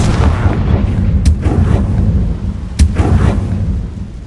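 Confringo fire-blast spell cast in a Hogwarts video game: a loud, continuous rumbling roar with two sharp cracking bursts partway through, rolling like distant artillery, with no talking.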